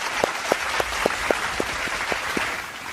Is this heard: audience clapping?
yes